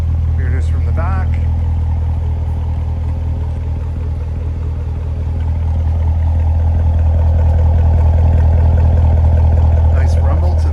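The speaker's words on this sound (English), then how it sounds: "Nice rumble to the exhaust." A white 2019 Chevrolet Corvette Grand Sport 2LT coupe with a 7-speed idles with a deep, steady exhaust rumble, loud and close, swelling slightly toward the end, with a voice speaking over it.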